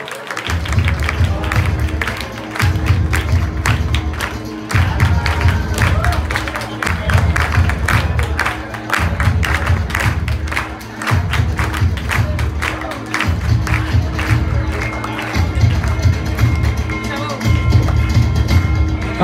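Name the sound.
loud applause at an academy Ganeshotsav traditional day contest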